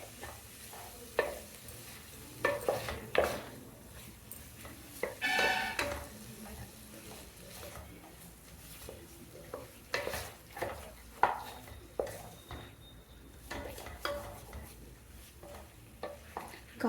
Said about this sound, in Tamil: காய் கொஞ்சம் வதக்கலாம் இந்த மசாலாலே